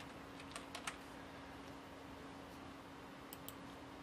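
A few quick keystrokes on a computer keyboard while entering a search in Unreal Engine 5.1, faint clicks in two short clusters over a low steady hum, no voices.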